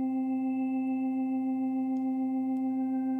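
A steady sustained organ chord played in GarageBand holds evenly with a slight rhythmic pulsing, clean and alone with no talk.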